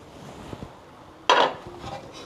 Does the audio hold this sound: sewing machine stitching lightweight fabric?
no